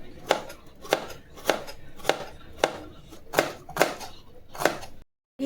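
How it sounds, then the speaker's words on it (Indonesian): Knife slicing an onion thinly on a cutting board in a small kitchen, a steady rhythm of about nine crisp close chops roughly half a second apart. "Bawangnya juga tipis-tipis aja."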